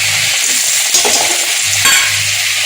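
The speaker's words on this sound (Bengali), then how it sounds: "তাহলে আমি এই পেঁয়াজ ভালো মতন ভেজে নেবো, লাল করে নেব" Onions fry in a pan with a close, steady sizzle, broken by a couple of brief scraping stirs.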